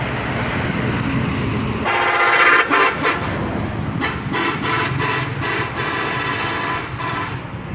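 City road traffic jammed by road construction, with repeated loud car horn blasts and honks over a constant rumble of engines and passing vehicles, close and busy throughout.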